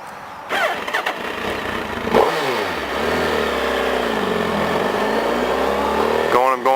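A motorcycle pulls away as the clutch is eased out and the throttle opened, its engine note rising steadily then dipping and climbing again, loud and close, with a second rev surge near the end.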